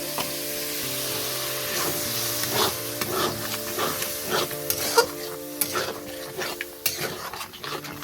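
Water poured into fried, reduced spice paste in a pan for a paneer curry, sizzling and bubbling with a steady close hiss while a spoon stirs and scrapes against the metal, clinking now and then.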